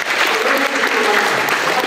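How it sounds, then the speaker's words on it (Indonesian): Brief, dense applause from a workshop audience, steady throughout, with voices faintly mixed in. "Kira-kira tepuk tangan dulu buat kita semua"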